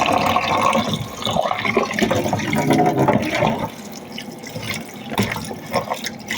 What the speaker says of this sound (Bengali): কয়েকবার করে জল পাল্টে পাল্টে আমি মাছগুলিকে ধুয়ে নেব